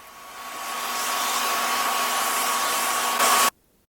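A vacuum cleaner runs steadily while cleaning wooden sled skis, a continuous loud whine with a faint tonal hum that rises briefly before cutting off abruptly near the end, followed by near silence.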